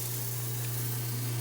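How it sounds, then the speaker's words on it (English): A newly installed Whirlpool garbage disposal runs with a steady low motor hum under broad hissing noise, constant and unbroken throughout. "garbage disposal on"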